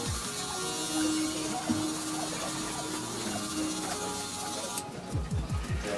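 Electric hair clippers fitted with a number 1.5 guard run with a steady close buzz while blending a bald taper on ethnic hair, the motor tone shifting briefly near the end.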